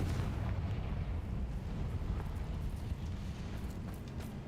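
Fiery blast of the Confringo spell in a Hogwarts video game, a dense, rumbling roar of explosion noise that stays loud and steady throughout without separate bangs.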